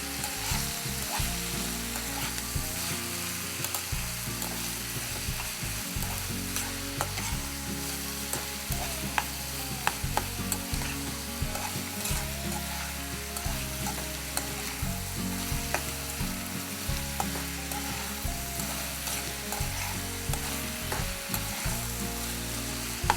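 Vegetables sautéing in a pan for vermicelli biryani, a steady crackling sizzle with repeated scraping stirs of a spoon against the pan, close and moderately quiet, no voices.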